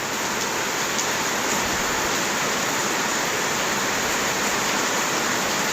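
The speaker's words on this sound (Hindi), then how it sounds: "बड़े ज़ोर से बारिश हो रही है यार," Heavy rain lashes down in Kuala Lumpur's Jalan Seri Sentosa area, a thick, continuous wash of loud hiss with no pauses and no voices.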